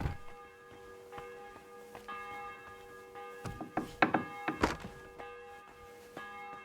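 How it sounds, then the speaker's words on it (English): A church bell tolls in the medieval game Kingdom Come: Deliverance 2, its ringing tones hanging over several dull thunks and knocks, moderately loud and unhurried. "The bell's ringing for Hans the fifth time."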